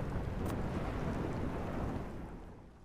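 Storm wind in ARK: Survival Ascended, a steady broadband roar that holds loud for about two seconds and then slowly eases off, with no voices over it.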